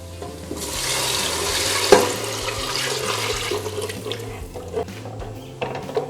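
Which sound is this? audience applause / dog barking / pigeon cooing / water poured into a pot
water poured into a pot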